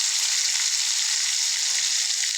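Onion and garlic paste frying in hot oil for a fish dish, a steady bright hiss of sizzling oil, loud and close, with no pauses.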